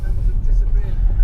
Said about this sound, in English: So essentially the van is a Nissan Toyota, whatever it is, 4-wheel drive